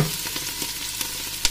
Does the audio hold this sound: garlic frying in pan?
yes